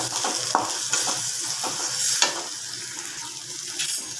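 Coriander powder and chili powder are sautéed with tomato in a hot pan, giving a steady sizzle broken by a few sharp scraping stirs, with no one talking.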